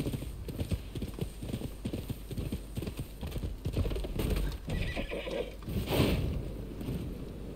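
Horse hooves clip-clop in a steady trotting rhythm in the samurai game Rise of the Ronin, with a clear neigh late in the stretch, set against ambient game sound.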